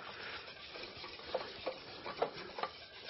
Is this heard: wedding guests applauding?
no